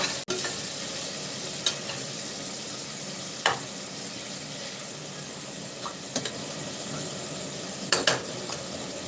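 Tomato and coconut milk sautéing in a pan for mutton curry, a steady soft sizzle and fry with occasional light stirring scrapes and clinks of the utensil.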